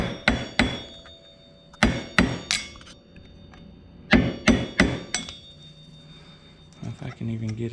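Flathead screwdriver used as a punch struck with a hammer while changing a car axle, loud close metallic blows in quick bursts of two to four, with a brief low murmur near the end.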